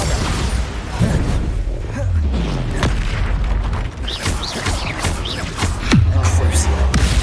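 Bombarda spell explosions in the Hogwarts Legacy video game, a few deep booms with rumbling low tails amid game effects, loud and close, with occasional speech over the top.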